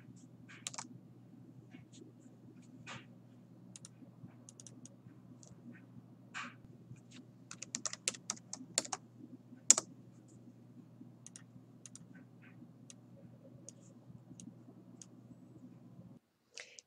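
Keys on a computer keyboard click in sparse, irregular bursts, quiet and close over a low steady hum, with a busier cluster of taps midway.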